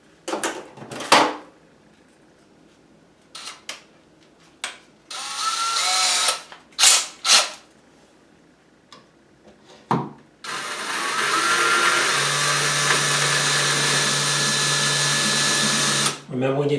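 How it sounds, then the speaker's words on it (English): A power drill fitted with a tile bit bores into bathroom tile, running in short bursts before a long, steady whining drill run near the end, with a person talking between bursts. "we're going to switch over to a tile bit so that we can drill into the tile without cracking it"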